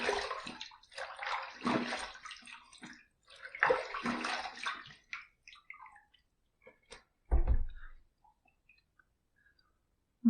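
Tap water runs in short splashing bursts as a safety razor is rinsed after a second shaving pass, close and intermittent, trailing off into drips and quiet clicks.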